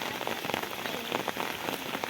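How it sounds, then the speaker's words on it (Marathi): Dense, steady rain pours down on farm fields, a continuous close hiss of drops hitting a surface with no break. "पाऊस बघा किती जोरदार पडतो आहे"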